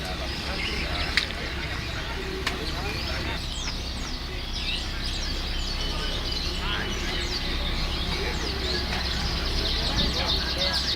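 Small rock white canary singing at a songbird contest, rapid chirps and trills mixed with many other birds calling amid a busy outdoor crowd, with people talking throughout.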